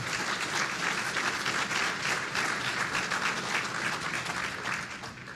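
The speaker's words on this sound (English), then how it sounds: "another round of applause for Ron" A crowd applauds a retiring colleague at an electric cooperative's annual meeting. Full, sustained clapping from many people holds steady throughout and eases slightly at the end.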